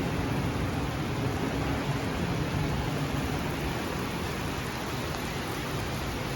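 Steady, dense rain pours down without a break, a constant hiss of drops drumming on a hard surface close by.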